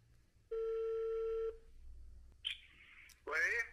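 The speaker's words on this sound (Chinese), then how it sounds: "咱们打电话问一下" A telephone ringback tone sounds once as a steady one-second tone, followed by chirpy electronic tones as a roadside assistance call for a BYD car connects; low background noise throughout.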